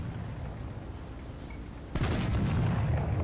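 A tank cannon fires once in the game On The FrontLine, a sudden loud boom partway through that rolls on into a sustained rumble over steady background engine noise.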